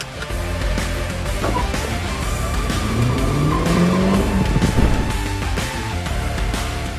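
A Cupra Terramar e-hybrid plug-in hybrid, powered by a 1.4-litre turbo petrol engine paired with an electric motor, starts up and runs steadily, with a rising tonal whine from the powertrain over a continuous, loud engine note.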